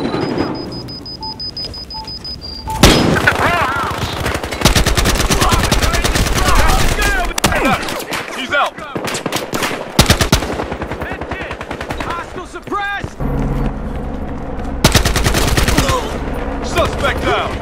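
Machine gun fire in an online Battlefield Hardline multiplayer match around a grow house, with loud sustained bursts and rapid overlapping volleys that run almost continuously at close range, with a few brief pauses between them.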